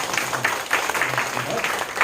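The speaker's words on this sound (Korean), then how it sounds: "특별히 우리 준비위원회 한번 박수로 함께 부탁드립니다" A church congregation at Sunday worship claps for the preparation committee, a brief patter of mixed hand claps with faint murmuring underneath.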